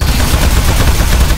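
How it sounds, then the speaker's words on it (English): Gunfire in Aperture Desk Job, a dense, steady burst of rapid shots at close range that runs unbroken and loud from start to finish. "So shoot the metal."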